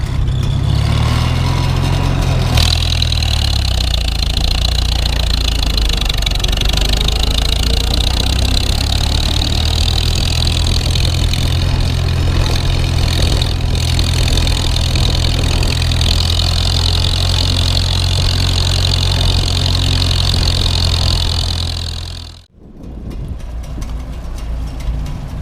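An old Farmall H tractor engine runs outdoors after a winter layup, a steady low chugging idle with one brief rise in revs near the start. It goes on unbroken for about twenty seconds, cuts out briefly, then resumes.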